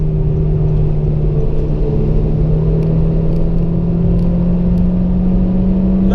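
A car on the Nürburgring pulls hard under acceleration, its engine note a steady, loud drone with a rising harmonic running throughout, close-up as from inside the cabin, with no voices.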